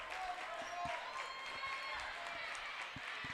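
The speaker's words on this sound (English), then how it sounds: "As the Lady Raider fans cheer on their program." Lady Raider fans at a high school district volleyball championship applaud and cheer as a steady, moderately distant crowd wash, with an announcer talking over it.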